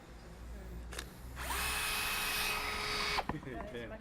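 A power drill in hammer action bores with a masonry bit during hands-on cladding installation training: a loud, gritty, rattling whine runs for about two seconds, framed by quieter room noise and soft talk.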